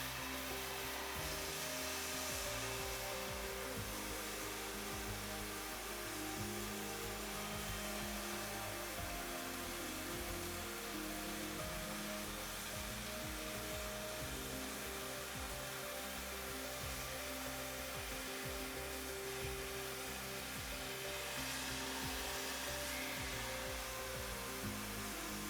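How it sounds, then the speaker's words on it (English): ProfiCut oxyfuel hand cutting torch cutting through a workpiece with the cutting oxygen lever open, giving a steady, loud, unbroken roaring hiss that holds from start to finish with no talk over it. "Cut your workpiece by operating the cutting oxygen lever."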